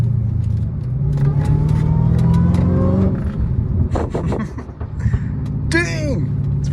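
A Dodge Hellcat Redeye on a canyon road revs with a rising engine note, then the exhaust cracks and pops in sharp bursts, loud and close, while people talk over it.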